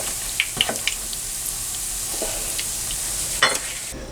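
Lentil Salisbury steaks fry in oil in a pan with a steady broadband sizzle, broken by a few brief spatters and utensil clicks near the start and one louder burst toward the end.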